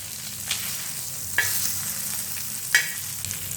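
Fish fries in oil over a medium flame with a constant close sizzle, and brief scraping stirs stand out now and then, with no talking.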